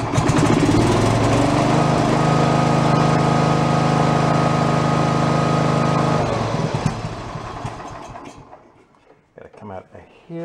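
Small engine of an old discarded John Deere lawn mower running close by with a steady droning idle for about six seconds, then dying down and sputtering to a stop.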